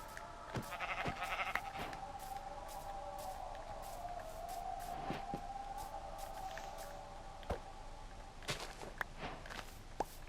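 Sheep bleating in Minecraft, a drawn-out wavering bleat near the start amid light footstep clicks and scattered sharp taps in a quiet game scene, with no talking.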